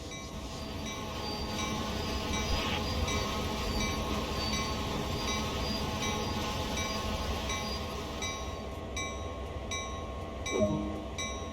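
A GP38-2 diesel locomotive in Train Sim World 2 rumbles steadily as it brakes to a stop. Faint wheel squeal and a short clank come near the end, and the rolling noise thins out.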